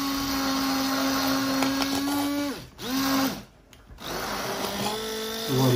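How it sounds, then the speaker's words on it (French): A kitchen blender whirs steadily as it purees strawberries for a coulis, its motor tone dropping out for a brief pause in the middle before spinning up again, loud and close. "Alors notre mixeur il est là."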